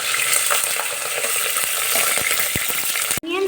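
Chilli and onion dropped into hot oil with spices for chicken pulao, a loud continuous frying sizzle with scattered stirring knocks, ending in an abrupt cut and a brief different tone.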